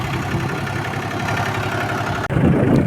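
A key-start tractor engine runs steadily at close range, a loud continuous mid-to-low rumble that briefly cuts out near the end and then resumes at full strength.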